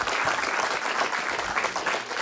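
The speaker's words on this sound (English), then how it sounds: "Keep that applause going" Steady applause from a comedy show audience rolls on without a break, a dense wash of many hands clapping at close range.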